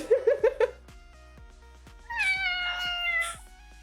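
Pet cat meowing while being lifted onto a chair, a quick run of four short close meows, a pause with faint clicks, then a longer drawn-out complaining yowl.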